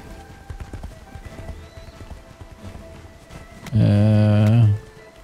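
Horse hooves clip-clopping in the video game Age of Wushu, soft and steady, followed by a loud, close neigh near the end.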